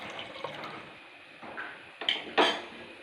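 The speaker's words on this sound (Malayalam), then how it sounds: "ആ പുളി വെള്ളം കൂടി ഇതിനകത്തേക്ക് ഒഴിച്ച് കൊടുക്കാം" Tamarind water poured into a pot of sambar, heard as a couple of short, close liquid splashes near the end after quiet kitchen background.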